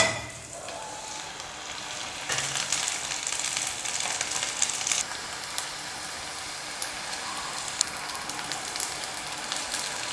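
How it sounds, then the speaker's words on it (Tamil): Rice murukku dropped into hot oil sizzles and crackles in a steady, bubbling hiss that starts quietly, then swells and holds at a constant level with scattered pops. "இப்போ ரெடி பண்ணி இருக்கிற முறுக்கு எண்ணெயில் போட்டுக்கலாம்."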